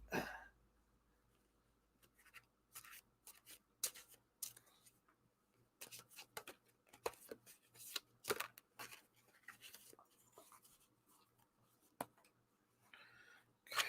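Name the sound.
shuffling tarot cards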